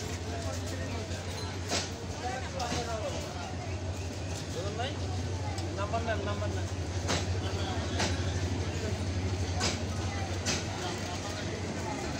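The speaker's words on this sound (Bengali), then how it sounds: "চমৎকার পরিবেশে চমৎকার একটি দ্রুতগতির শক্তিশালী ট্রেন চলে যাচ্ছে" A fast, powerful green train passes through open countryside, a steady low rumble and broadband rail roar holding for the whole stretch with occasional sharp clicks, while a person talks over it.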